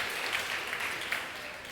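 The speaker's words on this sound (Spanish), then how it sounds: "Un aplauso para el Señor y para esos varones." A church congregation applauds in a Spanish-language service, a steady wash of many hands clapping together that carries on through the whole stretch at a moderate, fairly distant level.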